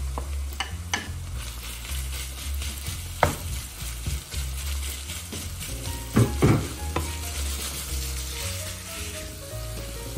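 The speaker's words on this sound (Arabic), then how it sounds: "بنزل الدجاج فوق البصل" Shredded chicken sizzles and fries on top of onions in a pan, with a steady close hiss broken by a few sharp stirring clinks and scrapes, no talking.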